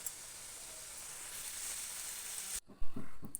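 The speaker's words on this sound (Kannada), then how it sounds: "ಚೆನ್ನಾಗಿ ಕ್ರಿಸ್ಪಿಯಾಗಿ ಫ್ರೈ ಆಗಿದೆ. ಸೌಂಡ್ ನೋಡಿದ್ರೇ ಗೊತ್ತಾಗುತ್ತೆ." Potatoes frying crispy in hot oil for honey chilli potatoes, a steady bright sizzle that cuts off abruptly, followed by a few clattering knocks.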